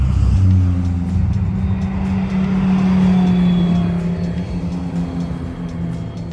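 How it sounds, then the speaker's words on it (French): Race cars on the Nordschleife held to 80 km/h under a red flag, a loud steady low engine drone heard up close, easing slightly toward the end. "les voitures là elles sont bloquées à 80 km/h quand c'est drapeau rouge"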